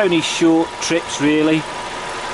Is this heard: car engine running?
yes